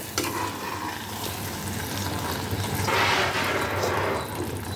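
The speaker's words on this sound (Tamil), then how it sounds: "நல்லா கிளறி விட்டுக்கோங்க." Mushroom gravy frying in a pan while being stirred, a steady close sizzle with scraping spoon strokes and a brief louder burst of frying hiss midway.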